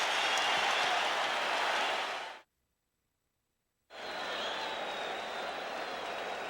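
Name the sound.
basketball arena crowd cheering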